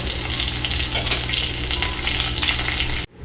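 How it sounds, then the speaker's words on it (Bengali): Dense, crackling sizzle of rohu fish heads frying in hot oil, steady and close, cutting off abruptly near the end. "মাছের মাথাগুলি লাল করে ভাজা হয়ে গেছে"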